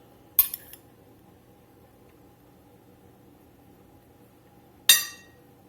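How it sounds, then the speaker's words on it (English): While rice is plated for a smothered turkey wings supper, two sharp, bright clinks of metal cutlery against a dish ring out about four seconds apart, each short and ringing, with quiet between them. "The first thing we're going to do is plate us up some rice."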